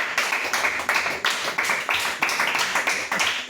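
A church congregation clapping to acclaim Jesus, a steady rhythmic beat of claps from many hands that holds an even pulse throughout, close and fairly loud.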